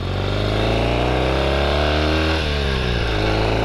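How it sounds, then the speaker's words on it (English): A 1972 Norton Commando motorcycle is ridden with its engine droning loud and close throughout, the steady note shifting in pitch partway as it changes gear. "This is a fun bike to ride."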